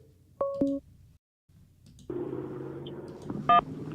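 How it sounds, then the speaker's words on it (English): A telephone line connects: short beeps and a tone, silence, then a held ringing tone with a dial-pad beep near the end. "We got the lines ringing."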